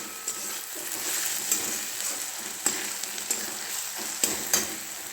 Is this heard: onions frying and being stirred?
yes